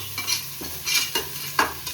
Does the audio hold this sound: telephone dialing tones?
no